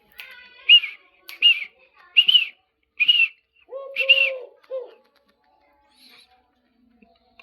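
A dhalkuku dove gives a short low call among several bright, whistled chirps from caged birds nearby, set against a quiet background.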